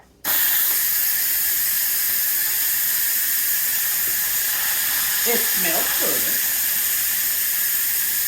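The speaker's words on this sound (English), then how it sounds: "we're just going to push the button to release the steam" Steady, loud hiss of steam venting from a Pampered Chef Quick Cooker pressure cooker after its release button is pressed, holding nearly unbroken for several seconds while people talk briefly near the end.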